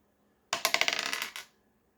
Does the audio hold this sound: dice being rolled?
yes